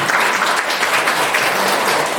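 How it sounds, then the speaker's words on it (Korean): Steady applause from a sizable audience welcoming a speaker at a parents' seminar in Daegu, dense clapping that holds at an even level throughout with no voices on top. "현계욱 회장님을 큰 박수로 환영해 주시면 감사하겠습니다"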